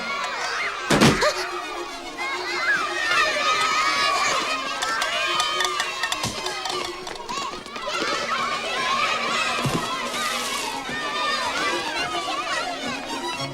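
A crowd of children shouts, squeals and cheers together in a lively, continuous din that carries on for the whole stretch, with a couple of sharp thuds and bangs near the start.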